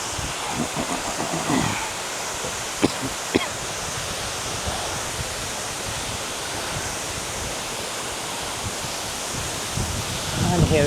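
Tiffany Falls in Hamilton, Ontario: a steady broadband rush of falling water fills the whole stretch at moderate level, with a few sharp knocks and light wind buffeting on the microphone.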